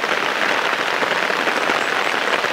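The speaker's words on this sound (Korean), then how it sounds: "아, 왜 이렇게 비가 와?" Rain falls steadily over a remote mountain hamlet, a broad, continuous patter and hiss at constant loudness with no talking.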